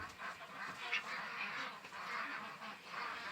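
A flock of gray Runner drakes giving soft, raspy quacks and honking calls that overlap irregularly, faint and at a moderate distance, without speech.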